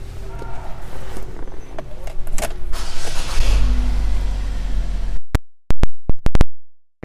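Power moonroof on a 2017 GMC Terrain Denali opening inside the cabin, a steady motor whir with faint creaks, ending in several sharp, close clicks.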